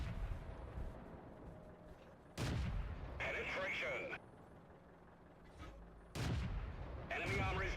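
Tank cannon shots in World of Tanks ring out as two loud, heavy booms a few seconds apart, each followed by a mechanical reload clatter, while someone talks over the quieter stretches between them.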